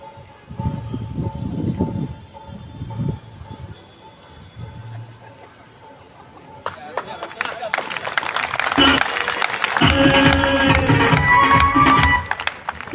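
An audience claps loudly in a burst of applause lasting several seconds at a motivational RCM business talk, following a man's speech that fills the first half.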